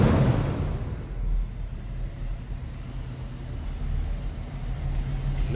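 A 1969 Ford Mustang GT Fastback with a 390 V8 and mild cam rumbles with a deep, steady low-end throb, rising as the throttle is blipped at the start, then holding a sustained, close engine growl.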